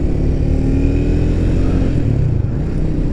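Motorcycle engine pulling in first gear at a relaxed pace, a loud, steady, smooth note close to the rider with no speech.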